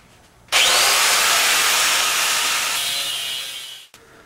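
A power cutting tool slicing the spring perch off a steel shock tube from a Toyota AE86 strut, starting abruptly and holding a loud, steady high-pitched grinding whine for about three and a half seconds before cutting off.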